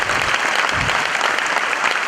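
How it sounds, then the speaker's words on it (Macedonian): An audience claps in a brief, dense burst of applause, loud and close, with crowd noise behind it. "Ајде, аплауз."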